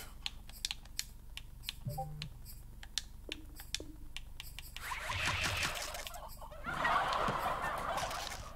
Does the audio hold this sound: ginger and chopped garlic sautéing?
no